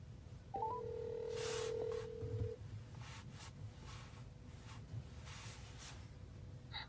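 Dialing tones from the Bluetooth hands-free system of a Mitsubishi Eclipse Cross, a short rising beep followed by a steady outgoing ring tone lasting about two seconds, clear against quiet cabin background.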